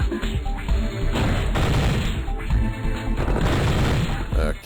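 A dense shoot-out in the bush from Operation Flashpoint, with rapid overlapping gunshots and cracking bursts of covering fire, loud and continuous throughout, someone speaking faintly underneath.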